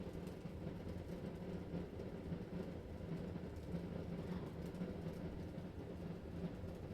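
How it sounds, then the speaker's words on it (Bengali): A metro rail train arrives at the station with a faint, steady low rumble that holds evenly across the whole stretch, with no clear voices above it. "আমাদের ট্রেনটা চলে আসলো, আমরা এখন সবাই উঠে যাব একজন একজন করে।"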